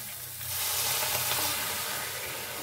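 Water and fresh mint leaves tipped into a hot pan while cooking rui fish with mint: a sudden loud hiss of sizzling that rises quickly and holds steady with crackling spatter, no voices.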